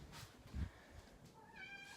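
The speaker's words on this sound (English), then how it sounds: "But Luna, stupid cat." A house cat meows indoors, two short, moderately faint cries with a bump of handling noise between them and no talking.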